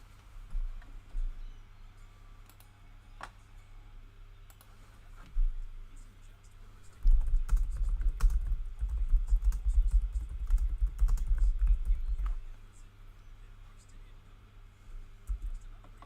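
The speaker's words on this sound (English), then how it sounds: "So if you do hear typing, that's what I'm doing." Rapid typing on a computer keyboard, close and fairly loud, a dense burst of clicks for about five seconds after scattered single taps.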